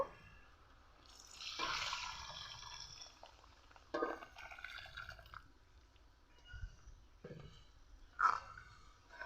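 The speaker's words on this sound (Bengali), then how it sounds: "বাকি দুধগুলো এভাবে ঢেলে দিব" Remaining milk for homemade sweet yogurt (mishti doi) is poured into a pot, giving a soft, close trickle and splash that swells and fades, with a few drips and light clatters in between.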